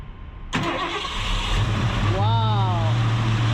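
A 1973 Ford Mustang engine cranks after a sharp start, catches and settles into a rough, loud idle close by, while people talk over it.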